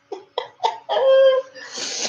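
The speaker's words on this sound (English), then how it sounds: "I love when he sneezes like that." A few short catching breaths build into a squeaky, high-pitched sneeze, followed by a breathy exhale, close and fairly loud.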